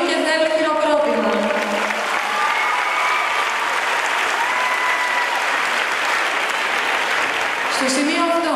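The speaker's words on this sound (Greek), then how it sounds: "θέλει χειροκρότημα" Sustained loud applause from the crowd at the Kefalonia gymnastics festival in Argostoli, a dense unbroken wash of clapping that fills the whole stretch, with a voice over the PA heard at the start and end.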